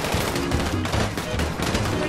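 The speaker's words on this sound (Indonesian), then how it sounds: "Ada polis tembak" Sustained police gunfire in GTA 5 roleplay, a dense, continuous burst of rapid shots running loud and close throughout, with faint voices mixed in.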